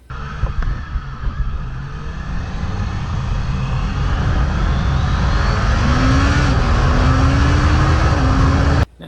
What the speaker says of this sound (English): I'm gonna show you a little clip that shows hitting the throttle just a little bit aggressive, but not too crazy, and how tame this bike can be.